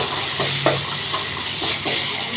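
Ginger is stirred into an egg curry base sizzling in a pan, with a soft steady frying hiss and a few light scraping strokes of the spoon close by.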